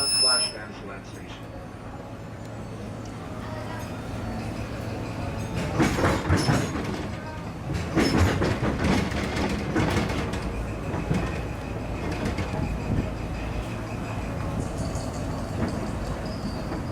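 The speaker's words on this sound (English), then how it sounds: "welcome aboard the Disneyland Railroad" Disneyland Railroad steam train rolling along the track at a theme park, a steady rumble with clickety-clack and swelling bursts of noise, with speech heard over it.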